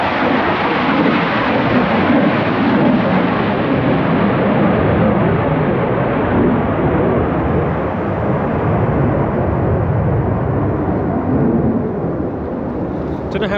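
A low-flying aircraft roars overhead above the Lake District, a loud, sustained rumble that fills the air and fades slowly, with no pause.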